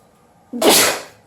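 A single sharp, loud sneeze burst out close by, trailing off quickly.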